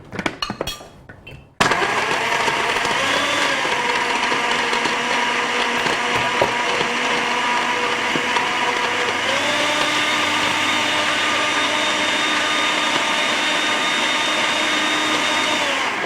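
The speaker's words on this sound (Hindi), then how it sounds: "मेरे पास ज़बरदस्त सा ब्लेंडर है जिसमें मैं आपको शेक्स और ड्रिंक्स बनाती हूँ।" Blender whirring as it purees figs with water: after a short rattling start, the motor kicks in loudly and runs at a constant high-pitched drone, shifting slightly in pitch partway through as the contents loosen, with no talk.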